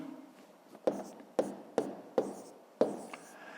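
A pen writes numbers by hand on paper for a fifth-grade maths exercise, five distinct taps and short strokes spaced about half a second apart, close and quiet.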